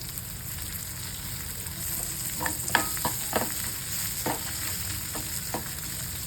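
Homemade black masala stirred into a frying pan with ridge gourd bhaji ingredients, a steady sizzle of oil under a scatter of scraping spoon strokes, several distinct scrapes clustered in the middle, no talking.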